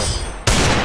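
A single loud, close gunshot cracks out in a shooting video game as a headshot lands, a sharp burst over dense game noise.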